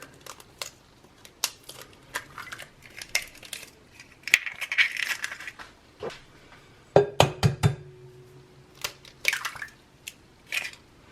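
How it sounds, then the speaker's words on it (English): Two eggs whisked together in a bowl while making gluten-free chocolate cheesecake brownies with coconut flour: quick clinking taps of the whisk against the bowl, irregular bursts of scraping and clatter, close and fairly quiet with no talking. "Now in a bowl, we're going to whisk together 2 eggs."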